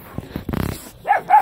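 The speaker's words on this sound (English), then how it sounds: "She's surrounded by nearly 300 dogs. It's a big shelter." Dogs bark at a large animal shelter housing nearly 300 dogs, several quick close barks followed by two louder, higher yelping barks, with no talk.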